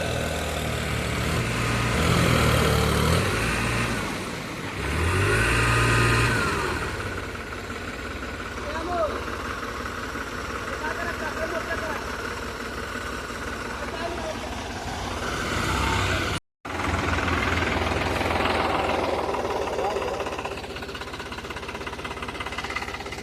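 A tractor stuck in mud revs its engine, surging in two loud low bursts early on and then settling into a steady rumble, with a brief cutout near the end and voices talking throughout.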